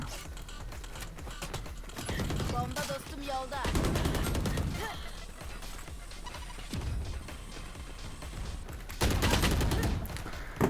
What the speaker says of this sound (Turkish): Bizim Sage bayağı mermi ıskaladı.